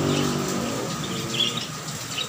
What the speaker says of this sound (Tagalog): Ang ganda ng mga ibon dito mga bus.